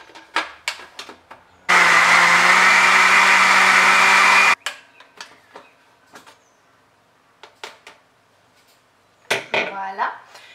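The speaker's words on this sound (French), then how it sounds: "je vais mettre dans mon mixeur pour le mixer" A kitchen blender whirs loudly and steadily for about three seconds, mixing warm cooked rice with its cooking water; before and after, sharp knocks and clinks of the jar and lid, then a brief voice at the end.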